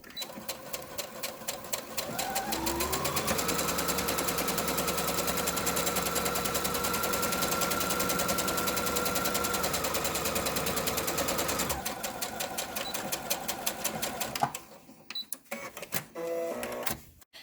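Sewing machine stitching a fabric face mask: a steady rapid mechanical chatter runs for about ten seconds as the motor whines at a constant pitch, then stops, followed by quieter clicks and handling noises, all close up.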